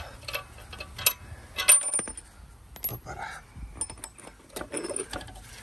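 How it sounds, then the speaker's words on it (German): Metal clicks and clinks from loosening the last wheel bearing bolts on a Skoda Octavia III front hub, with scattered sharp tool taps and ratchet ticks, close and moderately loud, and no talk. "Ich löse jetzt hier nochmal die letzten Schrauben, die drei Schrauben, damit, die, damit das Lager nicht mehr fest sitzt"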